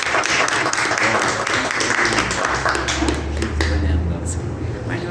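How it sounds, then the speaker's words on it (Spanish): Audience at a gathering on identity and resistance applauding together, dense clapping mixed with crowd voices and a low hum, steady and fairly loud. "La aplaudimos entre todos."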